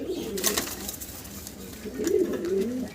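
Gola pigeons coo in low, rolling murmurs at a pigeon seller's, several birds close by, with a brief burst of sharper sounds early on over a steady background hum.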